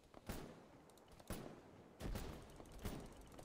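Gunfire in a first-person military shooter game fires at the player as repeated bursts of loud, rattling shots, several sharp onsets spread over a few seconds.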